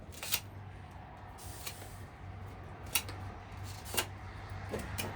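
A square peg being cut off with a hand tool, producing a few sharp, isolated clicks and snips over a faint background hum.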